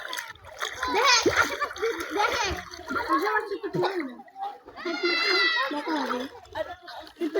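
Water splashes from someone diving into water while children shout and talk close by, several bursts of splashing mixed with lively voices.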